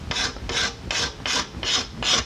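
A card scraper smooths the rounded, rasp-marked edge of a wooden board bow, making about five even back-and-forth scraping strokes, close and crisp, with no talking.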